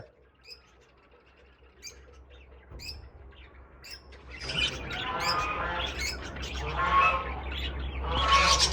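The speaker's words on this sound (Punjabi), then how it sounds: "ਜਿਹੜੀਆਂ ਬੰਗਾਲੀ ਚਿੜੀਆਂ ਨੇ ਆ ਬੈਠੀਆਂ ਬੰਗਾਲੀ ਫਿੰਚ" Small caged Bengalese finches give short, high chirps and tweets that start sparse and faint, then build into a busier, louder chorus of overlapping calls toward the end.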